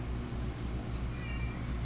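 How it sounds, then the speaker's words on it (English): A cat meows once, clear and fairly close, over a dense, steady background hum, with a faint high whine drifting through near the end. "Cats."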